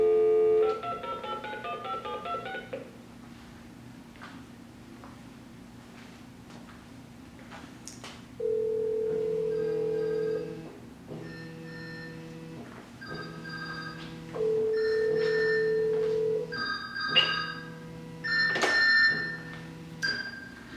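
A phone sits inside a thick metal-lid Faraday cage and still rings when called: a short burst of dialing beeps comes first, then a muffled electronic ringtone repeats in regular pulses and grows busier toward the end.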